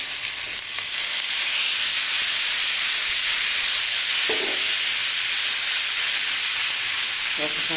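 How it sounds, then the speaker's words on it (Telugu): Ginger and green chili pieces sizzling in hot oil for an eggplant curry, a loud, dense, steady hiss and crackle filling the whole clip, with a couple of brief utensil clatters near the pan. "ఫస్ట్ అల్లం ముక్కలు వేస్తున్నాను నేను, పచ్చిమిరపకాయ ముక్కలు మొత్తం వేసేసండి."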